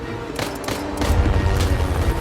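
Gunfire traded with a Tiger helicopter in an action film, with bursts of loud shots over a low rumbling background that grows heavier toward the end.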